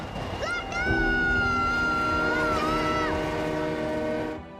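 A train horn blares in a long, steady tone over the rumble of rolling rail cars, then fades.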